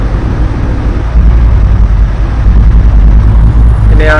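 Simulated heavy truck with a stock V8 and its exhaust brake engaged in Truckers of Europe 3, a loud continuous low engine drone throughout with a brief higher burst at the very end.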